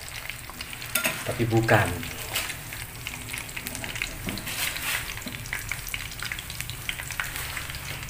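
Penyek fries in hot oil while being stirred, giving a close, steady sizzle with scraping and a brief clatter near the start. A short bit of speech is heard.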